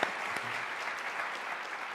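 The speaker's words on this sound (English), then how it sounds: "Let's give her a big round of applause." An audience at a human rights and art panel applauds the artist Laurie Anderson with a steady, full wash of clapping that holds at an even level throughout.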